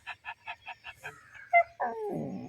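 A voice imitates a dog, producing a run of six short, evenly spaced yips followed by a whimpering whine and a longer howling bark.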